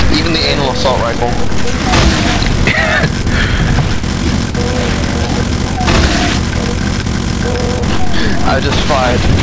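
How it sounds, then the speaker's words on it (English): Sustained rapid minigun fire in Doom with the Brutal mod, a loud, dense mechanical roar that goes on without pause through the whole stretch, with voices over it. "I just fired all the bullets"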